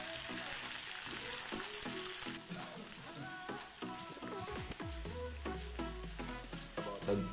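Carrot, celery leaves and hot pepper sizzle quietly in a pan as they are stirred, with a soft crackling hiss and occasional stirring clinks, faint and without speech.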